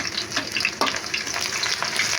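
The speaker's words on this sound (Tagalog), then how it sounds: "Yung ginigisa natin, na sobra ng painit ng ating mantiga." Chicken sautés in very hot cooking oil, giving a loud, continuous close sizzle with brief spits and the clack of stirring.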